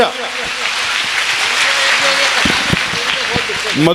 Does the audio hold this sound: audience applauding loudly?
yes